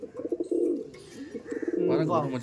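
Andhra and Chennai Madras pigeons coo in repeated soft, throaty rolls, close by, with someone talking over them in places.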